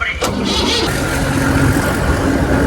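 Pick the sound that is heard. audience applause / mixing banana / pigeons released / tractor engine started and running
tractor engine started and running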